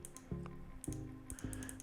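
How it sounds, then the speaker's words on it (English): A computer mouse clicks while a photo is retouched: three crisp, close clicks spaced about half a second apart over a faint room hum, with no talking. "So it's going to be a lot of clicking"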